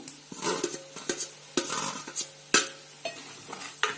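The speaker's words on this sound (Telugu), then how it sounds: "నెమ్మదిగా కలుపుకోండి మొత్తము అంత కలిసేట్టుగా" Gooseberries fry in oil in a pan for a green chilli pickle while a spoon stirs them, producing a soft sizzle under repeated scraping clinks against the metal pan in an uneven rhythm.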